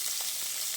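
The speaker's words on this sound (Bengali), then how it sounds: "সেই আলুগুলো তেলের মধ্যে দিয়ে দিচ্ছি" Cubed potatoes dropped into hot oil in a home kitchen, a steady bright sizzle of frying with faint stirring, close and continuous through a brief moment.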